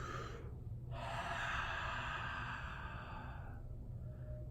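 Steady breathing through the mouth after taking rapé snuff, a long airy exhale-like hiss with a sharp gasping intake near the start, close and continuous with no talking.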